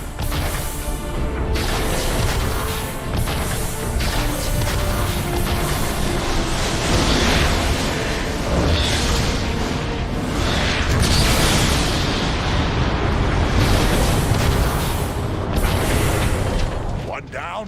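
A warp cannon blows up in a Transformers video game, giving a long, loud run of booming blasts, crashes and rumbling debris that carries on for most of the stretch, with game voices mixed in.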